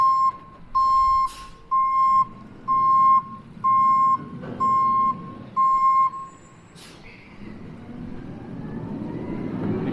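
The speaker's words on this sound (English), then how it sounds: "That sound is a garbage truck emptying a dumpster." A garbage truck emptying a dumpster in Mammoth Lakes, California sounds seven evenly spaced reversing beeps at mid distance, then a low mechanical rumble builds as the beeping stops.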